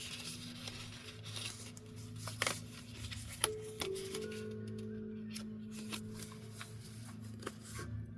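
An astrology card deck is shuffled and a card pulled, with soft papery riffles, slides and taps continuing close and fairly quiet throughout, with no talking.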